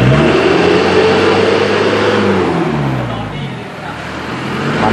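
A diesel vehicle engine runs close by and is revved to around 3000 rpm during a black-smoke emissions check, a loud continuous roar with rising and falling pitch that dips slightly near the end, with voices under it.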